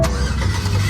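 A Chevrolet Camaro ZL1 engine rumbles deep and loud close by at a car meet, a brief steady throaty idle.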